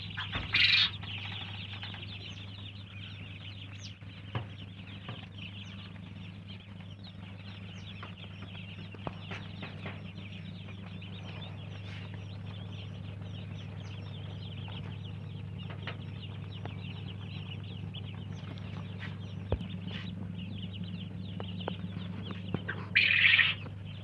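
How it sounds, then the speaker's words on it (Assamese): Small local ducklings cheeping in a brood, a steady busy chorus of high peeps with occasional louder bursts of chirping and wing flutter, close and continuous over a low background hum. "এইবিলাক হৈছে লোকেল হাঁহৰ পোৱালি"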